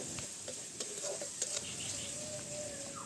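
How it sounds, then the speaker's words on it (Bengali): Spice paste frying and being stirred in a pan: a continuous soft sizzle with intermittent scraping strokes of a spoon, fairly quiet and steady. "এবার মশলাটা ভালোভাবে কষায় নিতেছি"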